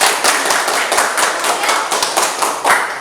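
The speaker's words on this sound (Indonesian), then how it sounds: "Kasih tepuk tangan" Students applauding in a chemistry classroom, a brisk, dense burst of many hands clapping close and loud, continuous for a few seconds.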